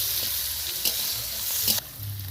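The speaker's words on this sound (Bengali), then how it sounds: "তেল দিয়ে দিয়েছে, এই পেঁয়াজটা ভালো মতন লাল হয়ে যাবে।" Onion fries in hot oil for a duck curry, making a loud, close, hissing sizzle with a couple of stirring scrapes, and it drops off sharply near the end.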